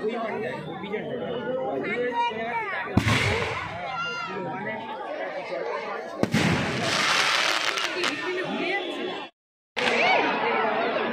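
Festival fireworks set off during a Tara Ma puja celebration, sharp bursts near 3 and 6 seconds followed by crackling bursts and a brief silence, all under steady crowd chatter and nearby talking voices.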